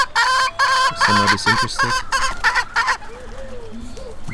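A breeding flock of hens and a rooster clucks and crows loudly and close by in bursts, with a short spoken phrase mixed in and quieter clucking trailing off afterward.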